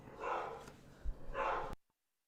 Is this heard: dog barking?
yes